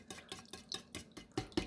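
Water and vinegar are beaten into pie crust dough, a quick run of about eight rhythmic, soft wet thumps and scrapes at close range with no talk.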